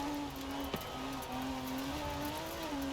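Engine of a rally car in Forza Horizon 4 drones steadily at a fair speed, its pitch shifting with gear changes and a brief sharp bump near the start, with no voice over it.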